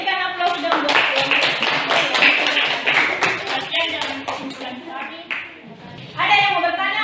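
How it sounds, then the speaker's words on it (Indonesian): Applause from a classroom audience in an Indonesian civics lesson, a steady patter of many hands clapping with students' voices mixed in, swelling again near the end. "Berikan aplaus dong buat"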